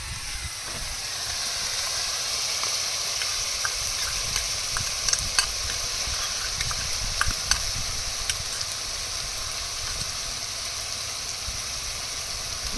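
Onions sizzle steadily in hot oil as they are stirred with ginger, garlic and poppy seed paste, with a constant frying hiss and occasional light clicks of a spatula against the pan.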